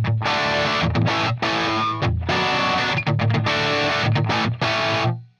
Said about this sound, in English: So that is the sound of the JCM 800 Marshall